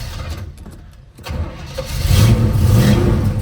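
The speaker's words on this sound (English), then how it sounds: "We're going to start up our 79 Trans Am." A 1979 Pontiac Trans Am V8 cranks briefly and fires up, then settles into a loud, rumbling idle, close to the car.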